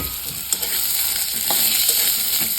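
Pigeon pea seeds roasting in a hot pan, a steady dry sizzle with repeated scraping stirs and small clinks of a spatula, close and continuous with no talk.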